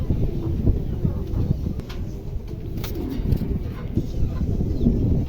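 A pair of Bokhara pigeons, one an almond-coloured male, cooing up close in soft low rolling calls, with faint background noise and a light breeze.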